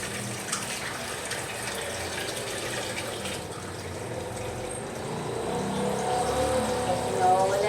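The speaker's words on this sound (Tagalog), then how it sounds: "Lagyan ko muna ng water," Water poured into a cooking pot of mung beans, a continuous splashing, gushing fill heard close up that grows slightly fuller toward the end.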